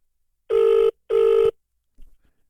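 A telephone rings on an unanswered call: two even, electronic ring tones sound close and clear, followed by a brief faint click and silence.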